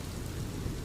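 Steady rain falls in a dense, even hiss with a low rumble of thunder underneath, a continuous storm ambience with no voices.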